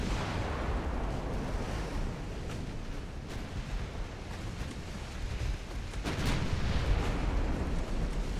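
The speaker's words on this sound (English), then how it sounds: "That was 13-inch guns." 13-inch naval battleship guns firing in the Ultimate Admiral Dreadnoughts game: a continuous heavy rumble of distant booming gunfire with a few sharper reports standing out, no voices.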